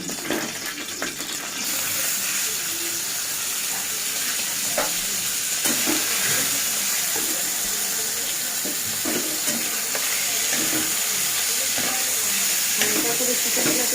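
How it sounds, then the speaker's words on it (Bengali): Chicken for momo filling fries and is stirred in white oil in a pan, giving a continuous loud sizzle with scraping stirs and occasional clinks, no voices. "চিকেন কুটটা বানানোর জন্য প্রথমে একটু সাদা তেল দিয়ে দিচ্ছি দিয়ে চিকেন চিকেনগুলো দিয়ে দিচ্ছি"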